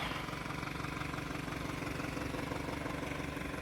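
A Volkswagen Jetta's knocking 2-litre turbo petrol engine idles with a steady, rough, diesel-like clatter, close and continuous with no other sounds.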